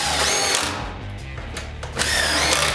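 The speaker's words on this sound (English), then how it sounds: "You drive the screws in." Power drill driving screws into wall studs for shelf brackets in a shed, a loud close whirring run that dips briefly in the middle and then surges again, no voices.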